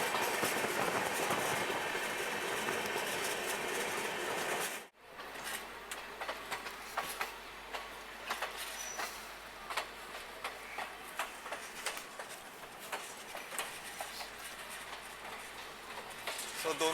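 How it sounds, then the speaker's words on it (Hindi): The Patalkot Express running on rails gives a loud rushing roar that cuts out sharply, then a steadier rumble with rhythmic clicks and clatter of wheels over track joints; no one speaks. "तो दोनों ट्रेन बिल्कुल पैरेलल में चल रही हैं और दोनों एक साथ ही एंटर करेंगी"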